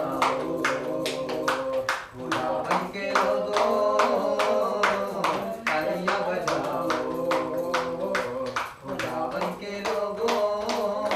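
A Palm Sunday congregation claps hands in steady rhythm along with a sung worship chorus and music, the sharp beats clear and regular over voices singing.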